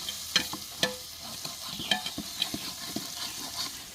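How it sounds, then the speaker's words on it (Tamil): Ginger garlic paste, green chilies and onions sautéed for biryani: sharp, irregular clanks and scrapes of a stirring utensil in the pan over a soft, faint sizzle, close up with no talking. "இஞ்சி பூண்டு பேஸ்ட்டு, பச்சை மிளகா, வெங்காயம் இது மூணுத்தையும் போட்டு வதக்கும் போது"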